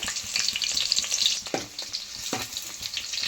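Onions frying in two spoons of hot oil on a gas stove, a steady close sizzle with brief stirring scrapes and clinks, no talk.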